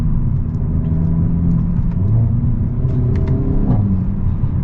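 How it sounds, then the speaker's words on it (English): Exhaust of a Hyundai Elantra N driving in Sport mode, a steady low rumble close by with a brief rise in engine note near the end. "Exhaust sounds really good."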